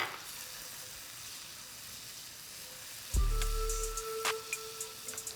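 Two tablespoons of garlic hit a hot skillet with a blackened ribeye over lowered heat. Quiet background fizz suddenly erupts into a loud, crackling sizzle about three seconds in, with some scraping and popping after.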